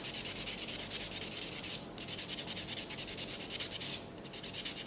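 A fingernail is buffed during a manicure, giving rapid rhythmic rubbing strokes in two bursts split by a short pause, close and soft with no talking.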